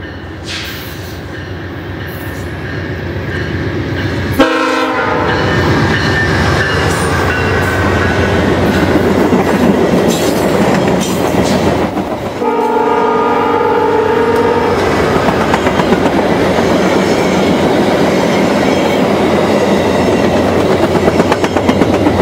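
Freight train passing close at a Brockville, Ontario crossing, a loud continuous rumble and clatter of wagons with repeated horn blasts sounding over the rolling noise.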